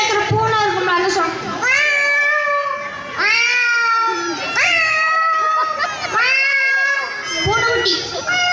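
At a school annual day mimicry performance, a voice imitates a cat, giving several drawn-out meows in a row, loud and close, with brief pauses between them.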